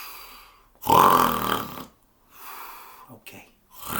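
A voice imitates a giant's loud snoring, giving one long rasping snore followed by quieter snorting breaths, close and solo with no other speech.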